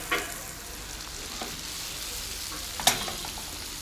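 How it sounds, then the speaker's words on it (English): Honey garlic prawns sizzle steadily in a hot pan, a continuous close frying hiss broken by a couple of sharp clicks as pieces are handled or turned. "once one side is done, then I am going to turn the prawns"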